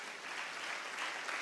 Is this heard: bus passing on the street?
no